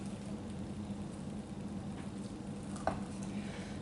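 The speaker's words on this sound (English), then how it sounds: "we're just going to coat them with the dough by stirring them" Blueberries being stirred into thick Pennsylvania Dutch muffin dough in a home kitchen, a soft steady wet scraping and squelching with one brief louder knock of the spoon near the end, no voices.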